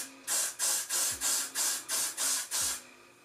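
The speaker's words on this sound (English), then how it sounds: "And I'm just gonna spray" Hair spray hisses from a can in eight short, even bursts, close and clear, each spritz aimed along the hairline before the can falls silent.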